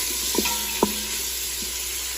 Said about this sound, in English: We're gonna saute this bacon,